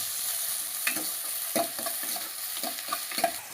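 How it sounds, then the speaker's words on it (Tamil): Onions and tomatoes sauté and stir in a pan for a sprouted-spinach dal kootu, a steady close sizzle broken by several scraping spatula strokes, with no voices. "வெங்காயம் தக்காளி வதக்கிடலாம் நல்லா வதக்கிடுங்க"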